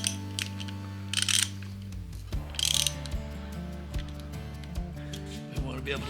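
Tightening a part on a Harley-Davidson Shovelhead three-speed transmission during final assembly: a few short metallic ratchet clicks and taps, close by, over a steady low hum.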